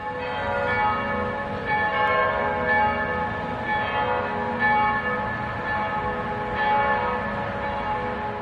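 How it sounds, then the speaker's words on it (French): Church bells of Notre-Dame-du-Rosaire, a set of four bells, ring in a sustained, overlapping peal with steady resonant strikes and a continuous humming tone, loud and unbroken, with no talk. "les 4 cloches de Notre-Dame du Rosaire s'appellent Marie, Julie, Cécile, Lydie et Colette"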